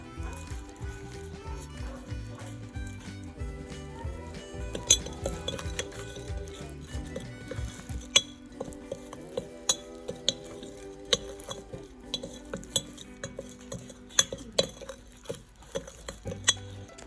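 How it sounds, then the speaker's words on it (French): Ingredients for a guinea fowl tajine being mixed with a utensil, giving light scattered clinks and taps against the pot over soft background music. "Bien mélanger."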